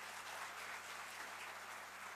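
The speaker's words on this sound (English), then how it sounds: "I'm sure that deserves a round of applause." Members in the National Assembly chamber applaud during a trade and industry budget debate, a soft, steady wash of distant clapping from many hands, even and continuous throughout.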